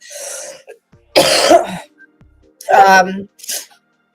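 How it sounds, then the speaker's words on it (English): A few harsh, close coughing bursts, rough and throaty, separated by short quiet pauses. "Oh god, what a fucking horrible cough, illness."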